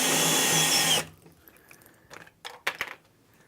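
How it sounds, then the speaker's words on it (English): A power drill whirs loudly for about a second while boring a hole into a Cooke & Lewis 925 base cabinet panel, then stops, followed by a few light clicks and knocks of handling. "then drill a hole, being careful not to drill all the way through the panel"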